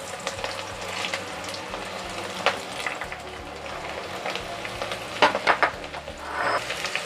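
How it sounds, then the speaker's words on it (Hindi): Salted okra (bhindi) frying in hot oil on high flame, a moderate steady sizzle with occasional stirring scrapes and a few louder bursts near the end, no talk. "देखिए अच्छे से फ्राई हो रहे हैं ये"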